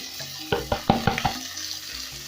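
Washed rice goes into a sizzling pan, with several close, distinct thuds and spattering hisses followed by a soft continuous sizzle.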